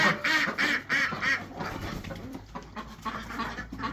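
Backyard ducks quack in a lively close cluster of repeated calls, loud at first and then continuing more softly in overlapping bursts.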